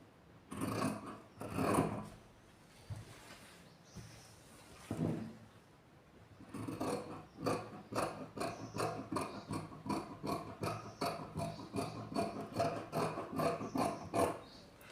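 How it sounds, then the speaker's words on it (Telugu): Scissors snip through blouse fabric along chalk markings, first a few slow, separated cuts, then a fast, regular run of close crunching snips. No one speaks. "మనం ఈ మార్కింగ్ చేసుకున్న విధంగా కటింగ్ అయితే చేద్దాం"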